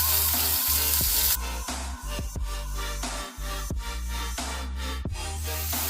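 Finely chopped onion, one large one, tipped into hot oil already crackling with cumin, frying steadily with a dense continuous sizzle and occasional stirring clinks, close and loud with no voices.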